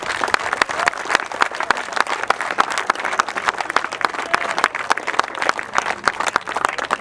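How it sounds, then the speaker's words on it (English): A youth cricket league crowd at an NYCL event applauds loudly. Many distinct sharp claps stand out over a continuous bed of clapping, keeping a lively, uneven rhythm throughout. "How about a loud applause for that?"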